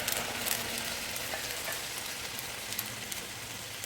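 Shrimp noodles with marinade sauce frying in a hot pan, a steady close sizzle and crackle running without pause, with light stirring clicks and no talking.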